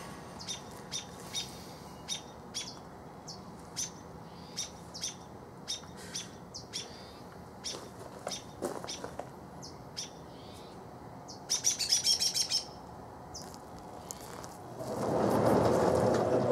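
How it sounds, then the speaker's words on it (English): Birds chirp outdoors around a sawmill at the end of the day, with short, evenly spaced calls repeating over a quiet background. A brief flurry of faster chirps is followed by a loud rushing noise near the end. "birds out there making a bunch of noise"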